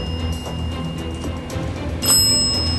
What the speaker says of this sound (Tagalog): Bell's going off like crazy.